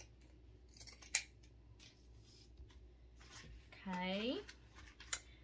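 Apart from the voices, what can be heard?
scissors trimming cut burlap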